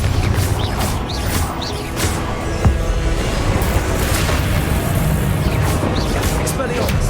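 Booming Confringo blasting-spell explosions and crashing impacts from Hogwarts Legacy combat, loud and dense, with a sharp blast near the middle over a continuous rumble of game action.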